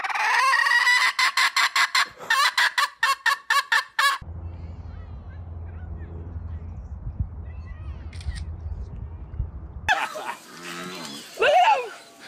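A chicken clucks in a rapid series of sharp, loud calls for several seconds up close, then quieter rustling and a low steady hum take over, before more squawky bird calls return near the end.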